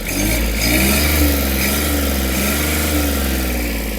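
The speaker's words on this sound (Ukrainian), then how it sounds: "Я навіть добавлю обертів, щоб ви побачили" A Kubota GB-13 Japanese mini tractor's diesel engine is revved up from idle, a steady close mechanical drone that rises and holds at higher speed with no talking over it.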